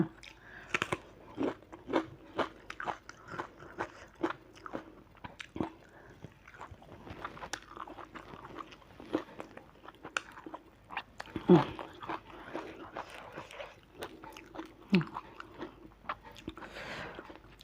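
Someone eating a Thai mackerel fish dip with fresh leaves, close, steady moist chewing and crunching bites repeating over a long stretch, with occasional talk mixed in.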